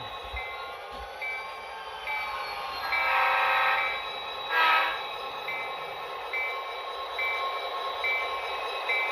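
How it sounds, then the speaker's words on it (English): A model train locomotive runs on a home layout, sounding its horn in short repeated toots with a louder, longer blast midway over a steady rolling hum. "Just a great locomotive."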